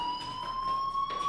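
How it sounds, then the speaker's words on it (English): Fire alarm in the video game Life is Strange, a steady electronic tone with high harmonics droning throughout, moderately loud with faint pulsing in the background. "do you hear that fire alarm? That means you should be outside."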